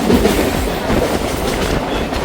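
A local train on the Howrah to Digha line rumbling along, heard from inside with a steady loud roar and rhythmic clickety-clack of wheels over rail joints, no voices.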